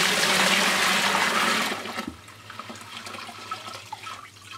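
Water from a bucket swirls in a clockwise vortex through a DIY low-head water turbine set on a bucket. A loud, rushing pour lasts about two seconds, then drops to quieter gurgling and trickling.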